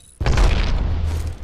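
Thrown frag grenade detonating in a shooter video game, a single loud booming blast with a heavy low rumble that decays over about a second.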